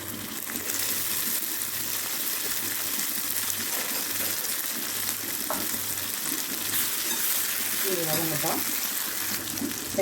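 Onion and tomato frying in a pan as a steady, dense sizzle with occasional stirring, while a voice speaks briefly in the background.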